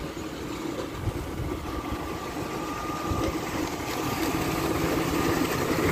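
A tubewell pump engine runs with a continuous low mechanical drone and rumble, holding steady and growing slightly louder toward the end.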